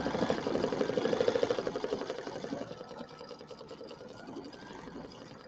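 An embroidery machine stitches placement lines on fabric with a steady, rapid mechanical chatter, close and moderately loud, easing slightly in level toward the end and running on without pause.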